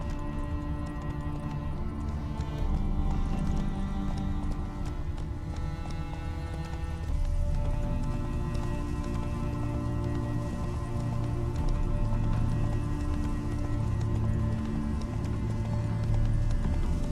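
Rhythmic hoofbeats of a galloping horse in the video game The Witcher 3 pound steadily under a sustained musical backdrop, with no voices.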